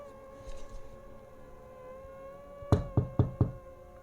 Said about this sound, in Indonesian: Trisno mengetuk pintu rumahnya seraya memanggil Hartini